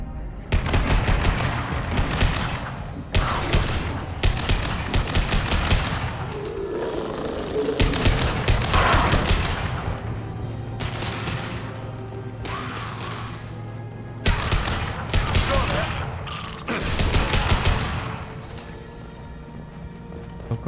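Heavy gunfire and explosions in the video game Mass Effect 2, loud repeated bursts of shots and blasts separated by brief lulls, with occasional quieter mechanical clanks between volleys.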